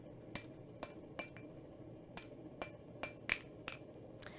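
Hammer flattening a metal bar back to stock thickness, a series of about a dozen sharp ringing strikes at an irregular, unhurried pace, close but fairly quiet.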